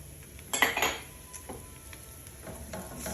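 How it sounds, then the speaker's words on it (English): Finely chopped capers go into garlic sautéing over medium heat in a pan: a clatter of utensil against the pan and a brief burst of sizzle, then quieter stirring and soft frying. "now that my garlic is sauteing beautifully, I have half a jar of capers chopped"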